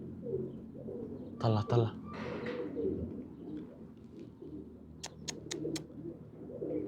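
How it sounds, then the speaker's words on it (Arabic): Birds flock over a rooftop, their calls and coos continuous in the background with a few sharp high chirps near the end; someone speaks briefly near the start, and scattered flutters and rustles sit under the bird sounds. "يا اخوان هاي كلها صقور، كلها يا اخوان"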